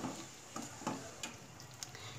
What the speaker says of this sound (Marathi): आता याला व्यवस्थित असं मिक्स करून घ्यायचं।